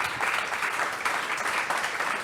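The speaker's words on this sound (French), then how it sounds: "Je vous demande d'applaudir Marc Chevalier et Francis Valade." Audience applause following a talk at a conference event, a steady dense wash of clapping from many hands, moderately loud and continuous throughout with no voices over it.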